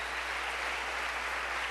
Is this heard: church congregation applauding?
yes